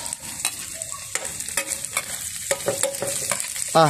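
Chinese sausage sizzles in a hot pan while a utensil scrapes and stirs it in irregular close strokes, the frying hiss steady underneath.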